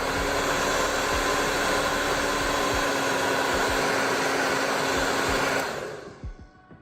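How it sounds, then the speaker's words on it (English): A hair dryer blows air with the top open, a loud steady whooshing whine with a fixed motor tone that runs evenly before shutting off near the end and dying away. "This is a hairdryer."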